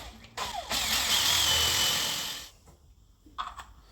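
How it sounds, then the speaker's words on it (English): A power drill whines steadily for about two seconds as it bores through a thin plastic lid, with brief clicks and handling sounds before and after. "give this little lid a bit of a drill"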